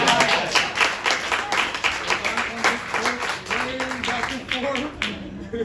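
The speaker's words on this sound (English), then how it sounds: "Y'all can clap better than that" An audience at a World AIDS Day gathering in Chicago clapping in scattered bursts while someone speaks over them, with the speech louder than the hands.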